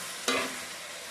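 Cauliflower and potato curry sautéed in a pan, one brief stirring scrape and sizzle, then fading to a steady low frying hiss.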